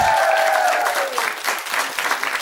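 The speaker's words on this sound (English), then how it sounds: "Give it a big round of applause." Studio audience on a Big Brother spin-off talk show breaking into applause, brisk clapping rising as a sustained tone fades out underneath.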